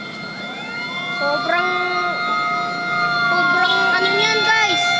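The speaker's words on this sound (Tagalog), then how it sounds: "Dami lang dumadaan na ambulansya o." Wailing ambulance sirens pass near a fire at 168, rising and falling tones sweeping loudly over street noise, with a person speaking briefly.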